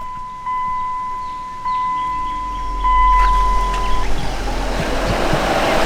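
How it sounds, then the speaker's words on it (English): Electric cooling fans on a 24-valve Cummins truck spin up partway through, adding a steady broad whooshing over a low idle hum, with a faint whining tone audible earlier. "hopefully you guys can hear that, our fans are on and running"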